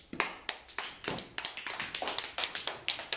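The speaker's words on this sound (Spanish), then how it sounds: "Un aplauso a Emily." Children applaud a girl named Emily in a class activity about gender equality, a string of crisp, distinct hand claps that start sparse and then pick up into a steady, fairly quiet patter.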